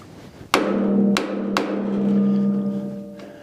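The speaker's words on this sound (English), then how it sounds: "I took a hammer, I bent these over a little." A hammer strikes rough metal edges to bend them down, with three sharp ringing blows in quick succession, each leaving a sustained metallic ring close by.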